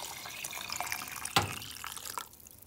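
Warm water poured from a stovetop pot into a soup pot of barley soup, a steady splashing pour with a sharp clunk midway, fairly close, then trailing off quieter.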